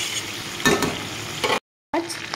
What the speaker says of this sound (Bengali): দুটো তেজপাতা, সাদা জিরে, আর এখানে লবঙ্গ, এলাচ, গোটা গরম মশলা দিয়ে আমি একটু হালকা ভেজে নেব